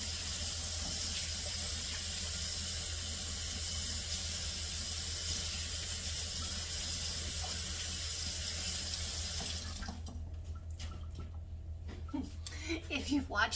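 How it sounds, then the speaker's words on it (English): A kitchen faucet runs steadily while hands are washed under it, a loud continuous splashing hiss that stops near the end, leaving a few faint clinks and handling sounds. "Let me wash off my hands."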